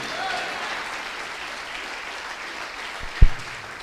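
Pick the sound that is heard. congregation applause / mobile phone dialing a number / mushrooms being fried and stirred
congregation applause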